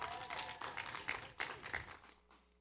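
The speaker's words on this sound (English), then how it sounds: "Give him a round of applause for his continued support." A graduation audience at Lithonia High School applauds: a brief, fairly faint wash of many hands clapping together from a distance, fading out quickly.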